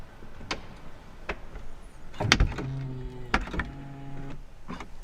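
A BMW car door pulls itself shut with its soft-close mechanism, a soft mechanical whir and a muted thud, followed by a low motor hum settling, with faint clicks around it.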